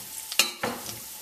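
Parisienne potatoes fry in hot oil in a pan, giving a soft sizzle with a sharp clatter and a short scraping stir close by.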